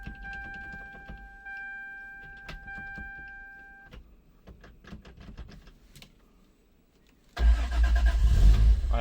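A Lexus SC300 with a 1JZ engine and HKS exhaust starts up. Steady electronic chimes and clicks come first, then the starter cranks and the engine catches with a loud, rough roar that grows steadily at close range.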